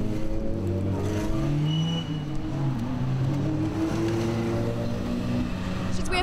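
Lotus race cars at Silverstone rumble into the pit lane under a safety car period, a dense, continuous engine drone with shifting pitches from several cars passing close by, steady and loud throughout.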